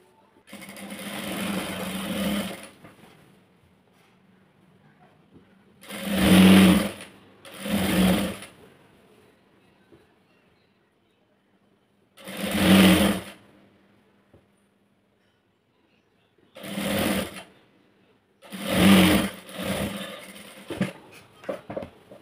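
An electric sewing machine stitching Anarkali dress pieces runs in several short bursts of rapid, buzzing stitching separated by quiet pauses, close and clear with no talking.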